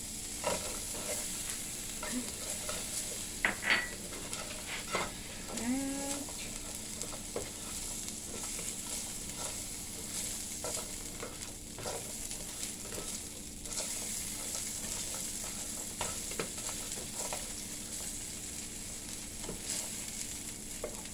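Onions frying and being stirred in a pan for a low-fat beef fried rice noodle dish, a steady broad sizzle running throughout with scattered clicks and scrapes of stirring, close and moderately loud with no talking.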